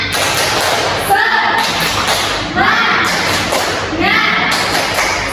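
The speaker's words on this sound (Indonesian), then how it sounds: "Coba kita tepuk semangat dulu" A high-school math class does a rhythmic spirit clap together, loud patterned bursts of hand claps and thumps broken by short pauses, with children's voices chanting along between the beats.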